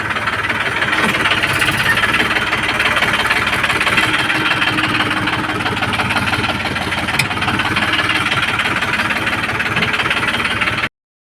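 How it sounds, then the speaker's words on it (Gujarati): A tractor engine idles close by for the whole stretch, a continuous rumble with a faint knocking rhythm and no voices over it. "હા ટ્રેક્ટર આવ્યું"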